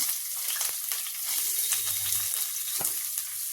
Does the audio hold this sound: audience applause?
no